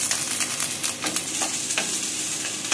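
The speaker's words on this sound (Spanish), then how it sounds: "Ahora vamos a agregar el rocoto, los rocotos picados, para que también tengan un sofrito ideal." Chopped rocoto peppers fry with onion in a pan, a close bright sizzle with scraping stirs and small crackles recurring through the short stretch.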